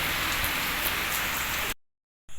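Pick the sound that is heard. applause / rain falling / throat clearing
rain falling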